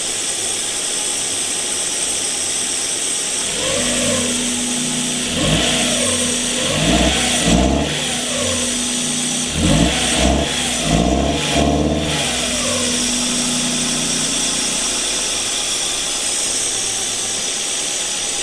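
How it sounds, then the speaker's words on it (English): A Mazda Miata drift car engine revs repeatedly in rising and falling pulls, bogging down each time it climbs past low revs, then settling to a steady idle, loud and close with no talk. "it bogs down right after gets above 2 and starts bogging."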